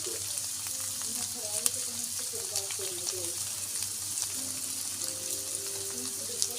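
Potatoes, onion and egg sizzle steadily in a hot pan, a continuous close crackling fry with occasional stirring knocks, while a voice talks quietly in the background.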